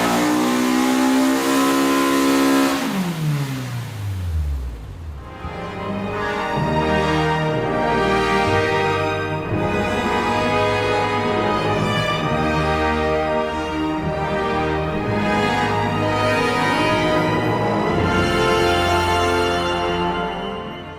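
Honda Civic EK hatchback engine revving hard on a dyno, a sweeping climb from low growl to high-pitched scream that holds loud and close for most of the run, with harmonics rising and settling near redline.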